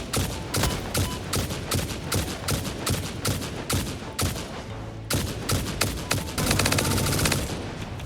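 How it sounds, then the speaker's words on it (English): Rapid gunfire fills a Satisfactory video game scene, loud dense bursts of shots aimed at the player that repeat in sharp volleys with only brief gaps. "something's shooting at me. What's shooting at me?"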